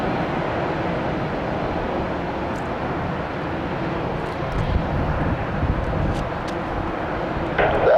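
A large airliner passes low over a bridge near Tampa's airport, its broad jet roar steady and loud throughout, filling the whole span without letting up.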